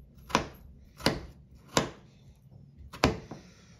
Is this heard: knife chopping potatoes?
yes